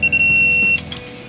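A torque wrench used on motorcycle front shock bolts gives a loud, steady high beep that signals the set tightness has been reached, then cuts off abruptly into a quieter workshop background.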